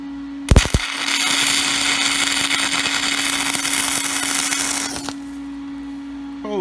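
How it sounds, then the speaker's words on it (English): A Miller XMT 350 arc welder strikes its first arc: a couple of sharp crackling pops, then a steady, harsh buzzing hiss lasting about four seconds over a constant electrical hum before stopping abruptly. "This is me trying to strike my first arc on this thing"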